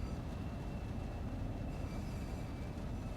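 A high-speed train in Train Sim World 2 slows to a halt at a station platform, a steady low rumble of wheels on rails with a faint high squeal, continuous and close.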